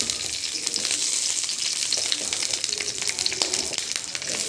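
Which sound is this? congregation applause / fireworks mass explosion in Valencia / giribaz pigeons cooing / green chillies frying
green chillies frying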